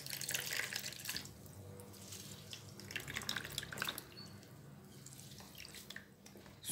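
Water drips and trickles from a squeezed handful of wet toilet paper pulp, faint, irregular patters and splashes close by, with no talking.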